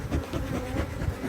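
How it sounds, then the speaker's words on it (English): Aggressive honey bees swarm around a beekeeper, making a close, dense, wavering buzz that rises and falls throughout without any talking. "they are the most aggressive bees I have here"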